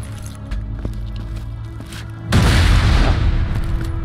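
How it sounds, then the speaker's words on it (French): A grenade bursts on the ground in the video game Borderlands 2, a sudden loud boom with a long noisy rumble after quiet game ambience and a few soft footsteps. "Il suffit de lancer une grenade sur le sol si j'y arrive."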